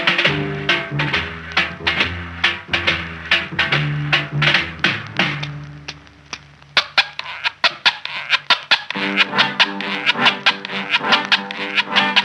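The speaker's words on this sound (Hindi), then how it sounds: "ये जो कंघी की आवाज है, ये दरअसल मेटल के बने लैटिन अमेरिकन स्क्रैपर से तैयार की गई है।" Rhythmic metallic scraping strokes from a metal Latin American scraper rasp in quick, regular bursts within a playing song, sounding like a comb being scraped in time with the beat.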